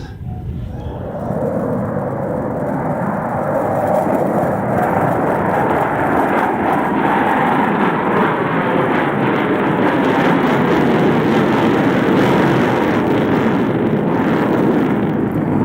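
A loud, continuous roar of jet aircraft from a four-jet demonstration team flying a Diamond formation maneuver. The sound swells and holds steady as the jets pass, with no voices.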